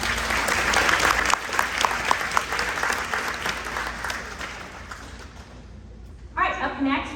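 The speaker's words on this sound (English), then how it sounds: "So big round of applause for yourself." Audience at a beginner band debut concert applauds for the program's supporters, dense clapping that gradually thins and fades, with a few voices heard toward the end.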